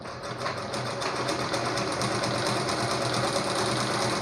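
A 4-in-1 pico and zig-zag sewing machine stitches at a steady fast clatter, its needle mechanism producing a dense, even rhythm up close and continuous throughout, with no voices over it.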